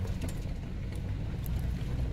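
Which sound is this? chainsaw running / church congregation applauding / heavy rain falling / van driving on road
van driving on road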